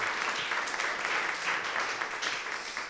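A church youth service congregation gives a round of thanks, a steady wash of many hands clapping at moderate distance that holds evenly throughout.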